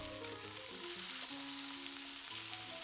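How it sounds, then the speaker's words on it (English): Salmon fillets sautéing in a pan, a soft, even sizzle running steadily beneath faint background tones, no speech. "Lightly brown the other side."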